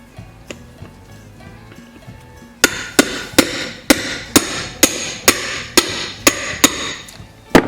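A wheel bearing being driven into a John Deere wheel with a hammer on a deep well socket, giving a steady series of sharp metallic strikes about every half second, loud and close, after a few quieter taps.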